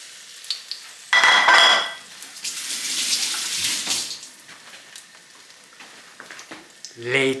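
French toast made from sliced bread fries in a home kitchen pan, giving a steady broadband sizzle that swells loudly early, then settles into a softer continuous crackle with a voice briefly heard near the end.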